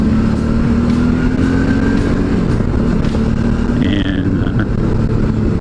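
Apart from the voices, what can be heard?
big adventure motorcycle riding on gravel road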